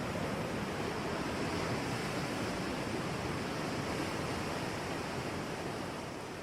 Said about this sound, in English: you would hear just water like this